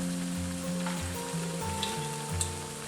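Chopped cabbage hits a pan of sizzling burger with garlic and onion, a steady close frying hiss running throughout with a few faint clicks on top and a low hum underneath.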